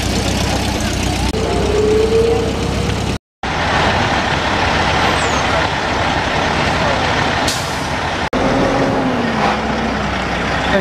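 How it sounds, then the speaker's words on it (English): A modern truck rolls past in an outdoor Christmas parade, its engine rumbling loudly and steadily close by, with a brief hiss like an air brake and crowd noise around it. "I guess modern motor vehicles are welcome in this parade too."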